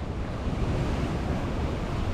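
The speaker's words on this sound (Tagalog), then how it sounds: "ang sitwasyon dito sa dagat ay ano na, masyado na malaki yung mga alon" Large ocean waves surge and crash steadily at Astwood Park, Bermuda, as Hurricane Earl approaches, a continuous loud roar of rough surf mixed with gusting wind noise on the microphone, no voices.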